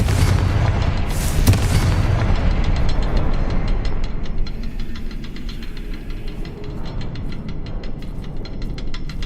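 A Confringo fire-blast spell from Hogwarts Legacy erupts in a loud, broad boom near the start, followed by a rumbling, crackling tail and a steady droning hum that carries on underneath for several seconds.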